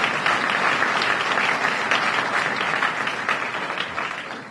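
Sustained applause from a crowd at a county State of the County address, steady clapping that holds for several seconds and fades slightly toward the end.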